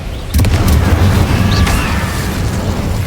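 Confringo spell explosion in Hogwarts Legacy: a sudden loud boom that then rumbles on as a dense, sustained roar of blast and debris.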